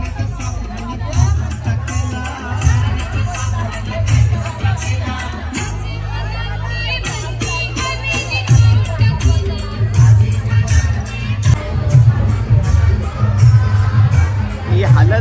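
A dense crowd packs a haldi wedding pandal in a Koliwada, with continuous chatter and hubbub over pounding low-frequency music and occasional shouts.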